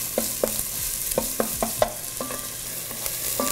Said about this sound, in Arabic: we will add the chopped onion. راح نضيف البصل المفروم والساتي until soft and brown.